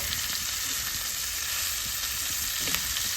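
Fresh sea fish fries on a wood-fired stove, a dense, constant sizzle that stays loud and even, with a faint knock as the fish is flipped.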